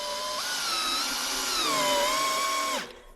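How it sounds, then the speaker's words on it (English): Power tool whining during installation of an art exhibition, a steady high-pitched drill-like drone that shifts pitch partway, then spins down and stops, fairly close. "That sound you're hearing is the sound of the actual installation of the exhibition."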